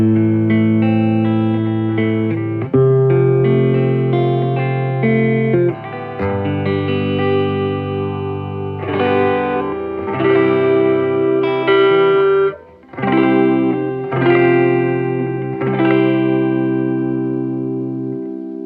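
A Les Paul electric guitar on its neck pickup plays a melodic passage through a Fender Vibrolux Custom '68 reissue amp, warm, clean, sustained notes and chords ringing loud and close for the whole stretch, with no voices.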